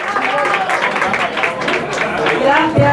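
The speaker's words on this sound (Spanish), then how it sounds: "¡Fuerte aplauso para" Audience applause and crowd noise for a band at a nighttime pop show, clapping mixed with cheering voices and shouts, loud and close throughout.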